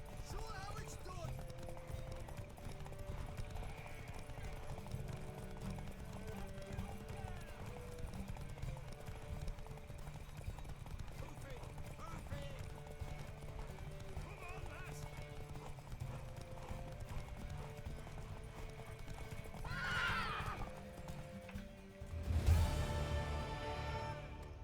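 In the video game The Witcher 3, hooves clip-clop in a steady, rhythmic gallop over a busy background, with a horse whinnying loudly near the end.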